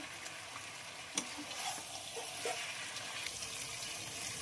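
Kerala-style chicken and potato fry sizzles softly in a pan as coriander leaves are added, with a faint clink of a utensil and light stirring rustles over the quiet, steady frying.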